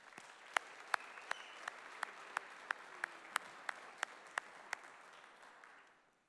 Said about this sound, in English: Let's give everyone here a round of applause.